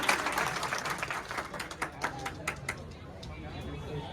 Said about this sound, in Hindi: एक बार जोरदार तालियां इन स्टूडेंट्स के लिए और हमारे टाइगर म्यूजिकल एकेडमी के लिए